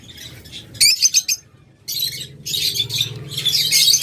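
Lovebirds chirp and squawk in shrill, close bursts, a lull in the middle and then a dense, excited chatter of several birds.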